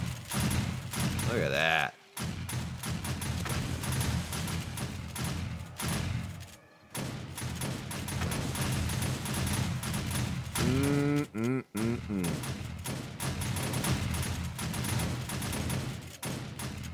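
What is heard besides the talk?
automatic turrets firing at zombie horde in 7 Days to Die video game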